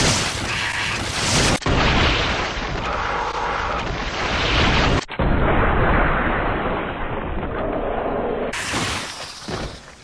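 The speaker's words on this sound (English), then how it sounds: "taking the most powerful Magnum fully upgraded to a standard Magini's head, and watching the explosive result headshot" A fully upgraded Magnum fires a headshot into a Ganado enemy in a video game. Loud booming blasts sound across several abruptly cut segments, each a heavy burst of explosive noise.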